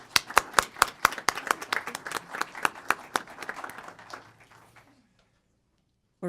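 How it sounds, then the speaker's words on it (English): Audience at a city council meeting breaks into a round of applause, sharp distinct claps at first that thin out and fade to silence over about five seconds. "Let's give them another round of applause."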